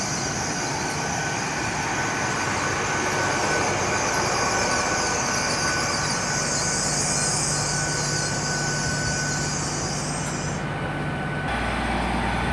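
Class 800 unit 800 315 departs Swindon on a Bristol Temple Meads to London Paddington service. It gives a loud, steady rolling roar with a high whine over it, which cuts off sharply near the end.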